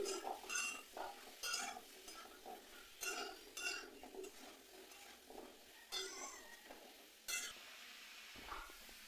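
A spoon stirs a spiced hog plum mixture with turmeric in a pan, giving repeated close scraping and clinking strokes in an irregular rhythm over a faint background sizzle, with no talking.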